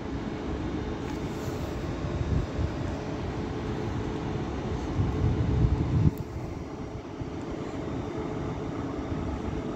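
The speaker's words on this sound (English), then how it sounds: "So now departing is the Northern service from Manchester Piccadilly to Crewe" A Northern train to Crewe departs Manchester Airport station, a steady low rumble of wheels and engine that swells slightly before easing off, heard alone without talk.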